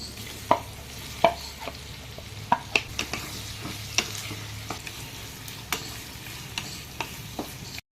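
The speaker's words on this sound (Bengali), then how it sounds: "এবার আমি এর মধ্যে পেঁয়াজগুলোকে ফ্রাই করে নেব।" Onions fry in oil after potatoes, in a low, steady sizzle broken by scattered sharp taps and clicks of a utensil against the pan, fairly quiet and close, with no voices.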